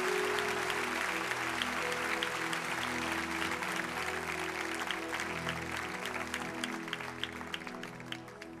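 A church congregation applauds during an evening Baptist service, a dense, steady wash of clapping over a sustained musical drone that holds throughout and thins slightly toward the end.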